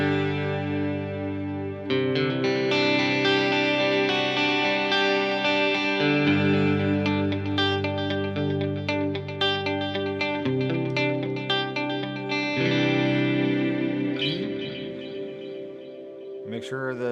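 Sustained guitar chords through a Headrush cathedral reverb swell into a vast, shimmering wash with long ringing tails, layered notes blooming and fading smoothly.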